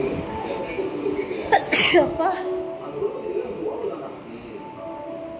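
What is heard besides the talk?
sneeze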